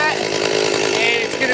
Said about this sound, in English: I know the chainsaw's loud, but we're working on this.